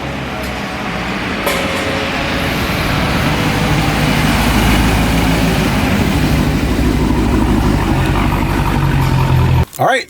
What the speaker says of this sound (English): Let's see what it sounds like from inside the car.